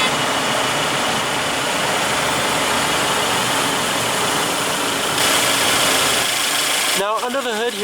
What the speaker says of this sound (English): Now under the hood here we have your base powertrain, which is a 2-liter turbocharged inline 4-cylinder engine.